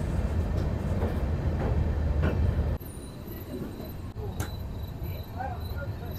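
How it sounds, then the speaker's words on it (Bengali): A train pulls into the newly opened Sairang station after crossing a high bridge, its steady low rumble loud at first and then easing, with insect chirps and faint background sounds in the quieter stretch. "সাইরাং স্টেশনে আমাদের ট্রেন ঢুকে পড়লো।"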